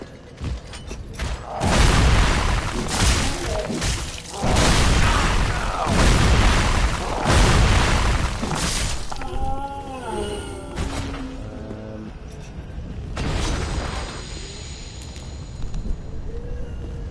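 Booming fire bomb bursts in Dark Souls 3 combat, several heavy blasts over the first seconds followed by creaking, shifting mechanical game sounds and a few tonal effects, loud and continuous.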